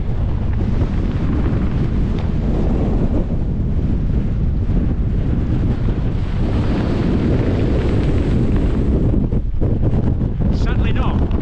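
Strong wind roars continuously across an exposed fell top of Ingleborough on New Year's Eve, loud broadband buffeting hitting the microphone throughout with no voices.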